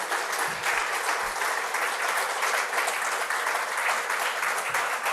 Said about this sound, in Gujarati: એમને આપણે જોરદાર તાળીઓથી વધાવી દઈએ.